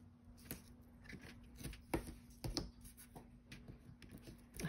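Clear adhesive tear tape is torn and pressed onto a paper card during card-making, giving scattered short crackly rips and rubbing taps against a faint steady hum, fairly close and moderately quiet throughout.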